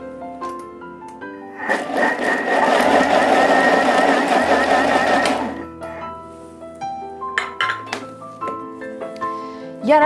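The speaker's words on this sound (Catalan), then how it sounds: "Ara agafarem la pinya i la triturarem" Pineapple being crushed in a blender, a loud whirring burst of a few seconds with a rising hum, framed by clinks and clatter of the jar and utensils, no voices.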